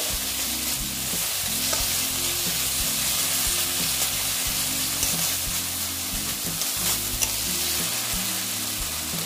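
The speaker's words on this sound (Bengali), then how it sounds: "এটা প্রায় অনেকটাই ভাজা হয়ে গেছে।" Eggs and potatoes for a curry sizzle loudly in a pan while a utensil stirs and scrapes through them in repeated strokes, a continuous close fry with no talking.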